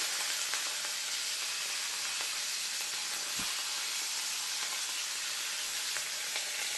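Garlic and curry leaves frying in hot oil give a steady, close, broadband sizzle and hiss that holds evenly throughout, with no talking.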